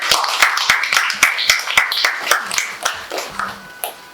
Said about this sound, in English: applause for our previous speaker.